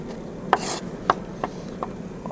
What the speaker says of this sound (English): I'm going to go ahead and chop up some of this garlic